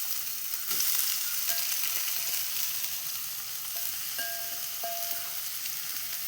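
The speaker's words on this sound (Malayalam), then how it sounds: "അപ്പോൾ ഇതാ വെളിച്ചെണ്ണ കാഞ്ഞിട്ടുണ്ട്. ഞാനിതിലേക്ക് സവാള ഇട്ട് കൊടുക്കുന്നുണ്ട്." Sliced onions sizzle steadily in hot coconut oil, a continuous broadband frying hiss with faint clinks from stirring, close and fairly loud throughout.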